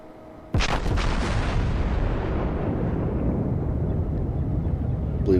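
Heavy battleship main-battery salvo in the naval game World of Warships, a sudden loud booming blast followed by a long rumbling roar that slowly fades over several seconds, with no talk.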